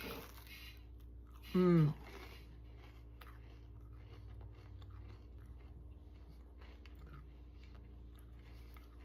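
Someone bites into and chews an oatmeal cookie with pecans, soft close crunching and mouth sounds under a brief hummed murmur of enjoyment, otherwise quiet.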